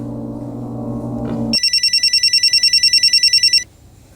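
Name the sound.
telephone ringing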